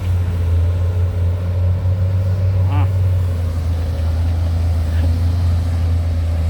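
A 20-ton Sany SY200C or 22-ton Doosan DX220A-2 excavator dredging a reservoir runs with a loud, constant low diesel rumble that stays steady throughout, with faint clanks above the engine hum.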